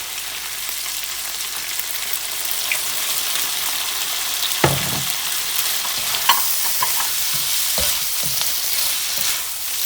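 Chinese cooking wine sizzling in a frying pan for leftover fried rice, a loud continuous hiss with occasional stirring knocks and clinks, close and without speech.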